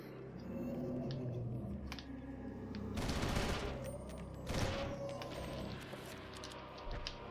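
Assault rifle fire in Eternal Darkness, heard as dense bursts of shots over a steady background of game ambience, with two loud volleys in the middle and a few scattered single cracks.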